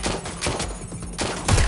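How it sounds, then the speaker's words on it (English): Rapid, overlapping gunshots in the open-world game Watch Dogs Legion, a loud, continuous fusillade of several weapons firing at once across the short moment, with no voices. "Shots fired!"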